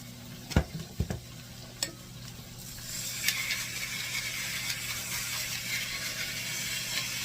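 Ground beef for beef and cheddar sloppy joes cooking in a pan, opening with a few sharp utensil scrapes and taps, then settling into a steady, close sizzle that continues to the end.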